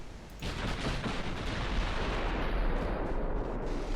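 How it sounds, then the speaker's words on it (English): Warship main guns firing in the Ultimate Admiral: Dreadnoughts naval video game, a heavy rumbling barrage of distant booms blending into a continuous roar of gunfire. "Is their guns firing faster than mine?"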